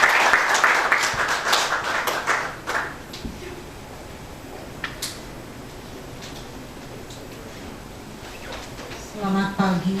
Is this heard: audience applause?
yes